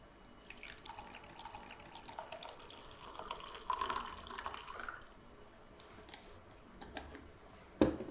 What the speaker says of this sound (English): pour it into your mug or heat-proof glass slowly until the cup's about half full